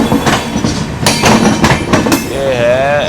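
The Delhi Patna AC Special rumbles along loudly just past Danapur station, running parallel to another train, with rhythmic wheel clatter and thumps and a wavering wheel squeal toward the end.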